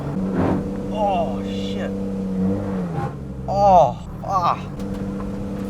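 A lowered Toyota JZX100 Chaser with an unhealthy 1JZ engine hums steadily while driving, with a few short rising revs breaking through and people exclaiming over it.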